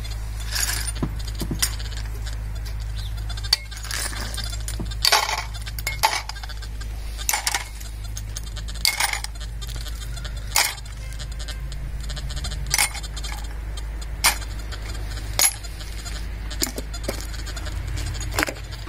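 Gold sovereign coins are dropped one by one into a metal box, giving sharp, scattered metallic clinks over a steady low hum.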